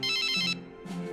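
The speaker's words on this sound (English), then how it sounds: "Oh, that's my phone." A cell phone ringtone plays alone, a bright repeating electronic melody with two short phrases that ring loudly and close.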